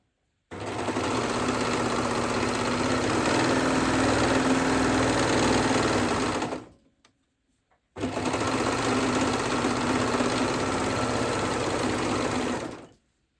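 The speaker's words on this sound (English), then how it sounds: "And sew it right down." A sewing machine stitching gathered fabric runs in two steady bursts of about six and five seconds, close and loud with an even motor hum and rapid needle chatter, and a short silent pause between them.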